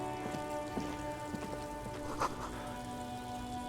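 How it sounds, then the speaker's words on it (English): Steady rain falls in the video game Disco Elysium, a soft continuous patter on surfaces with faint scattered drips, quiet and even throughout with no voices. "the sound is still there, so it's probably still raining"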